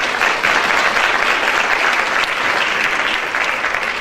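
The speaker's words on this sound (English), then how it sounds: "I want to give them a round of applause for being here." Steady, loud applause from an audience honoring Board of Education members at a school governance council training, continuous clapping filling the room for about four seconds with no voices over it.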